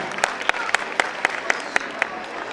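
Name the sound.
applause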